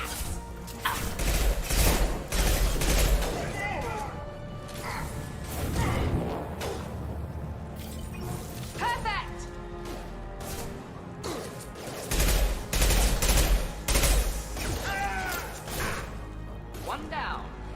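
Rifle fire and combat in the video game Mass Effect 2 crackle in repeated bursts with impacts and whooshes, loud and busy over a game soundtrack, while voices talk throughout.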